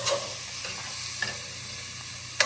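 Finely chopped onions and garlic cook in a pan, a soft steady sizzle broken by a few sharp stirring clicks from a utensil, quiet and close with no voices.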